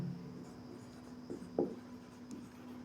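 A pen writes physics notes by hand on paper, making soft, close scratching strokes with a few slightly louder marks over a steady low hum.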